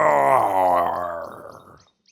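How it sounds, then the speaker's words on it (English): A leopard gives a single deep, rasping roar that is loud and close, grows hoarse and fades out over about two seconds. "Like the other big cats, they have a great roar."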